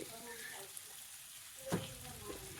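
Onions frying in a pan in a dim home kitchen until browning, a steady soft sizzle with a brief clatter midway, fairly quiet throughout.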